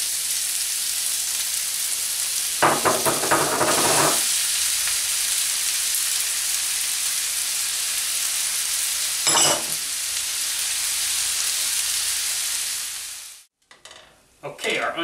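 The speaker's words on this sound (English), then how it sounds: "saute these 3 things in our olive oil just till they're nice and tender" Onions, peppers and garlic sautéing in olive oil, a loud, steady close-up sizzle with a couple of bursts of stirring scrapes before it cuts out near the end.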